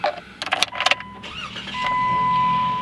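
A 2014 Jeep Wrangler Sport is keyed on, with a few chimes and clicks before the engine cranks and catches into a steady, close idle.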